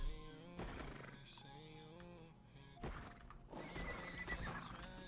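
A horse in the game ARK Survival Evolved (Ragnarok DLC) neighs and whinnies repeatedly over steady game music and ambience, with hoof clip-clops and thunks, loud and close throughout.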